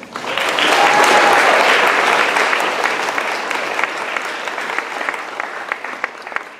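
A crowd at the Girls on the Run Sneaker Soiree keynote applauds loudly. The clapping swells early, then gradually thins and softens toward the end.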